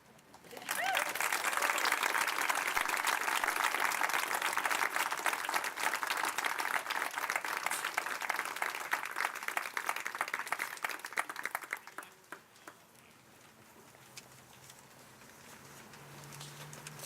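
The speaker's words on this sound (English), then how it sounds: "One more round of applause for the ComCamp Ensemble" An audience at a community house centennial celebration gives a round of applause for an ensemble: dense steady clapping for about eleven seconds, then fading to quiet room sound.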